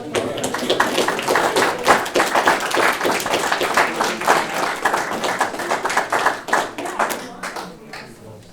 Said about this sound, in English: it's going to be a long clap